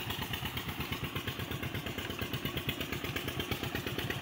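Hero Splendor motorcycle riding in first gear on the way to a farm, its engine putting out a steady, even mid-pitched thrum with faint rattling throughout.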